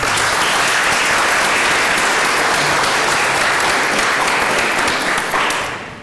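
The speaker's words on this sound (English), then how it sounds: "if we can give him a round of applause for him" A council-meeting audience gives a round of applause for a retiring city judge, loud continuous clapping that fades out near the end.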